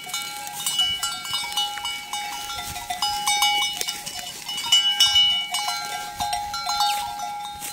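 Flock of sheep with bells grazing in a highland pasture among pine trees: many small bells jingling and clanking irregularly and continuously, close and fairly loud, with occasional faint bleats.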